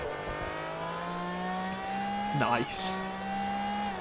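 A Lamborghini Aventador SVJ engine in Forza Motorsport, holding a steady high drone with a rising pitch, then a brief burst of revving and tire noise near the end while someone speaks briefly.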